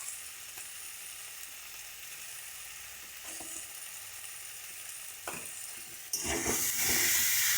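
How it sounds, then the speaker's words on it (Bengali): Spice paste with tomato fries in a pan, a continuous sizzling hiss that swells suddenly louder and brighter near the end as it is stirred. "দিয়ে এই মশলাটাকে ভালো করে কষাবো"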